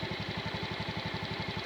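A Honda Beat scooter engine idles after a remote start, a steady low pulsing putter with regular beats, fairly faint and alone.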